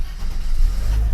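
An armoured Mercedes-Benz W126 560SEL with 146,000 kilometres starts up, a short close burst of deep engine rumble that swells into a steady low idle.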